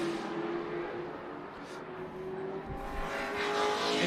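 Race cars roar around Tucson Speedway in a night race, engines droning loud and steady with one car running three wide on the front straightaway through lapped traffic, the pitch swelling as cars pass close.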